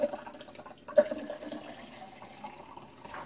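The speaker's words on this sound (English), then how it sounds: "Well, that's quite a bit of water coming out of there." Water runs from a Sawyer Select S3 purifier filter pouch into a sink, a quiet trickling splash with a few sharper drips, heard close and alone.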